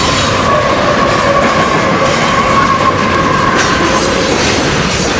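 A train rolls past on the tracks very close and loud, a steady roar of wheels and carriages with a faint metallic squeal running through it, filling the whole stretch without pause.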